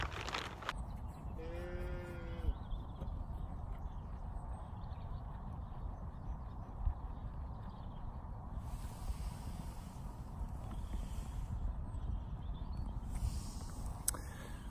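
Sheep being fed on a farm, with a clear bleat or moo-like call near the start over steady outdoor background noise and faint rustling throughout.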